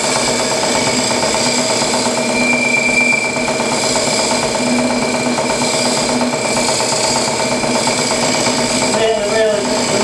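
A wood lathe spins a yew goblet blank under very light finishing cuts, giving a steady, continuous motor hum and whir at close range with a faint tool rasp, then a brief change near the end.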